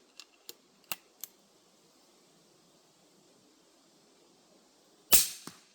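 A Thompson Contender .357 Magnum pistol cracks out a loud shot near the end, following a few faint, sharp clicks, with near silence in between.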